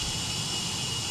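MD-80 jet engine at low power in a flight simulator gives a faint, steady whooshing hum with a high whine, heard alone and unchanging.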